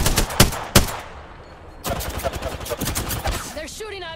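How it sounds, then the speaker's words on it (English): Gunfire in the Apex Legends battle royale game: two sharp close shots, a brief lull, then a longer stretch of rapid crackling fire, with a rising electronic game tone at the end. "They're shooting at me."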